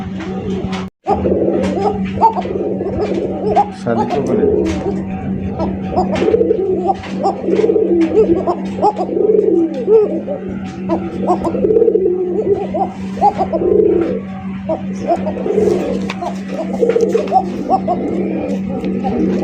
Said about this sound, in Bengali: মাশাআল্লাহ একদম বিগ সাইজের অ্যারাবিয়ান কোকা কবুতর